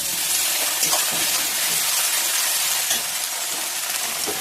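Spice paste of ground ginger, cumin and coriander with salt fries in a pan as it is stirred, giving a dense, continuous sizzle with soft scraping, close and steady.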